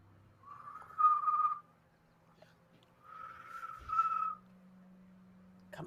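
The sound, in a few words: person whistling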